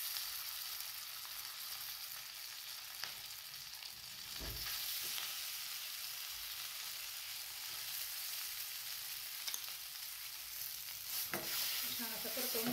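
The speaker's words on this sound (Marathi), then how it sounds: "आता यात थोडंसं तूप घालायचं। यामध्ये हा ठेचा घालायचा।" Green chili thecha sizzling in ghee in a pan, a faint steady frying hiss with occasional stirring scrapes, heard alone without talk.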